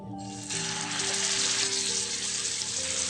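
Pangash fish pieces dropped into hot soybean oil in a small pan, a sudden loud hiss that begins after a brief pause and settles into a steady, close sizzle.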